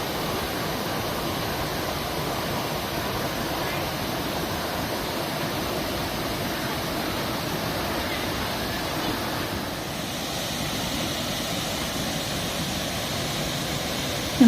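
A wide, low waterfall at Tat Ton in Chaiyaphum, Thailand, spilling over broad rock slabs into a pool below, roars as a steady, dense rush of water close by, unbroken for the whole stretch with no talk.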